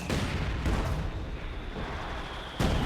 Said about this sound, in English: And then, yeah, the field gun. So it's a big barrage here.